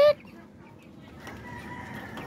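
Soft clucking from small chickens rises faintly under a low background murmur, close by but quiet, after a brief sharp sound at the start.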